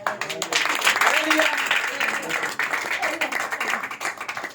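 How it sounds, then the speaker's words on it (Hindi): Church congregation clapping in worship during a Hindi-Urdu sermon, a lively wave of applause blended with voices and shouts, swelling early then thinning toward the end. "ये तालियां मेरे यीशु के नाम को हैं।"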